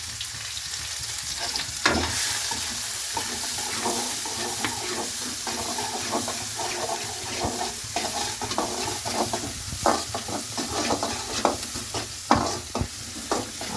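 Curry leaves and chopped onion fry in a hot pan with a steady, close sizzle, broken by repeated scraping clinks of a spoon stirring them around.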